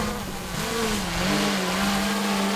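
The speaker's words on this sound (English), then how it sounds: "Come on, little drone." A small delivery drone flying, a steady buzzing motor hum with a wavering pitch, fairly close and continuous with no talk.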